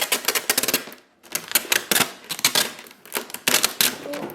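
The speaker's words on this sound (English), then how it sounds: "and then tape around your cut that you made." Tape is pulled and pressed around a cut in a plastic container prepared for winter sowing: rapid close ratcheting crackles as the tape unrolls, in repeated bursts with one brief pause, loud and alone.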